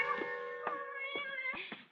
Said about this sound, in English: letting Napoleon, their cat, into the kitchen